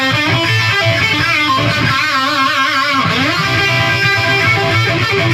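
A heavily distorted electric guitar through a Marshall JVM210 tube amp on its orange channel plays sustained, gritty chords and bends, loud and dense with a buzzing, saturated tone.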